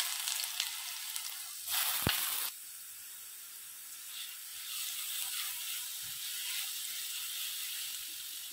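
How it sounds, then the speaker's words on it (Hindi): Carrot paste fries in a pan over a medium flame with a soft, continuous sizzle. A brief utensil clatter comes early, and the hiss then carries on evenly and close. "मीडियम फ्लेम रे आमर जो गाजर रो पेस्ट थिला ताकू पकेकी टिके भाजी देबा।"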